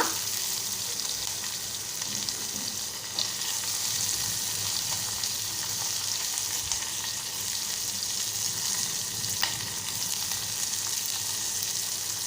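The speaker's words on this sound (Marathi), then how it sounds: "आता हे मिश्रण आपण व्यवस्थित एकजीव करून परतून घेऊया तेलात" Chilli, onion and curry leaves frying in oil in a pan, a soft, even sizzle that holds steady throughout with a couple of faint clicks, no talking.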